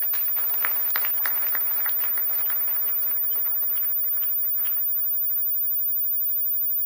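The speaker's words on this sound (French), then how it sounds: "Est-ce qu'on peut encore applaudir très fort pour Madame Djombo?" Audience applause at an opening ceremony of a women's entrepreneurship event in Oyo, a dense wash of many hands clapping that gradually thins and fades toward the end.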